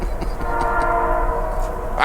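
A train rolls past with a loud, sustained horn blast over steady low rumble, continuous and close for the whole stretch.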